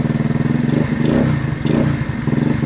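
A PMZ50 mini motorcycle engine, a Honda Grom clone, revs in quick, throaty bursts, rising and falling several times at close range with a rattling, buzzy tone.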